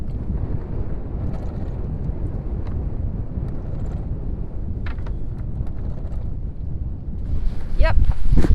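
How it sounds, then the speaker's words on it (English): Steady wind buffeting the microphone with a low roar on a sailboat in Spain in winter, about 12 knots gusting 18, swelling into a louder gust near the end, against faint background rumble. "Yep, definitely some wind"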